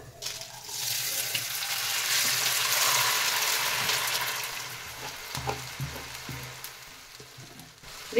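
Soaked rice going into hot ghee with cumin, cinnamon, cloves and cardamom, a steady broad sizzle and fry with stirring scrapes and clicks near the end, close and continuous.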